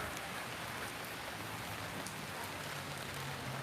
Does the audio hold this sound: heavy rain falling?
yes